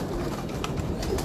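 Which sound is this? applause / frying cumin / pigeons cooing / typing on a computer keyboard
pigeons cooing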